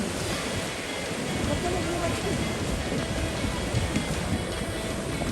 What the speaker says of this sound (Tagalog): Ang alon pala, grabe.